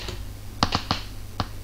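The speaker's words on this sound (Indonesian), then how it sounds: "tekan K, spasi, Ctrl S." Computer keyboard keys pressed as a quick shortcut sequence during 3D modelling work: four crisp, close clicks, three in fast succession and then one more after a short pause, with no talking.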